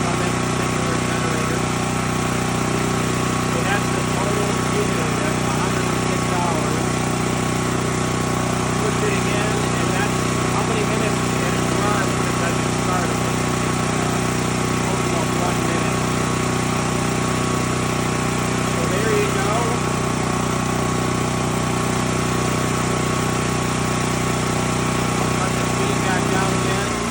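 A Harbor Freight Predator 13,000 watt tri-fuel generator runs at a loud, steady drone with constant engine hum, close and unchanging throughout.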